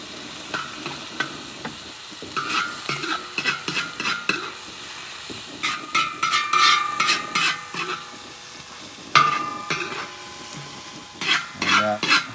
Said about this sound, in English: That hot oil is almost instantly cooking that egg.